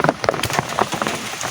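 Rain patters during a rainy-season storm in the Philippines, with close, irregular drops and taps striking a surface over a soft steady wash.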